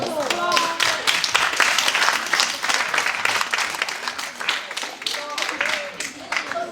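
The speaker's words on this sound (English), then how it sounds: "So let's give yourself a round of applause." Applause from a school concert audience in a library hall, dense and sustained clapping with a few voices calling out through it.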